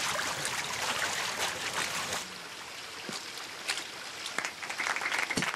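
Water rushing back into a cleared irrigation channel gives a steady broadband wash of flowing, trickling water with a few soft splashes, heard close and alone.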